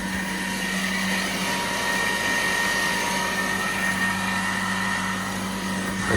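An electric water pump motor runs steadily, pushing water up from a tank at a home, with a constant near hum and rushing flow lasting throughout with no talk.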